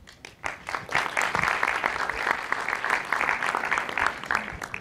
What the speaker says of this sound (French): Tout le monde applaudit tout le temps, on est chaud maintenant.